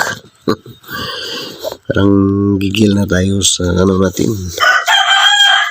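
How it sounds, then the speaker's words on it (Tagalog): A rooster crows loudly and close in a long harmonic call with several rising and falling segments, following earlier speech and bird sounds, at a gamecock owner's home at noon; someone talks before the crowing. "Pakinggan natin ng mga tilaok ng manok."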